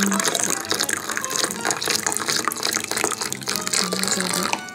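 Boiled hot water being poured into water to make amazake, a steady close splashing and gushing stream of liquid filling a container, continuous throughout.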